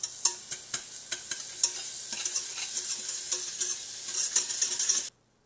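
Butter melting in a pan for a Creole béchamel sauce, a bright, continuous sizzle with frequent utensil clicks and scrapes against the pan, cutting off abruptly at the end.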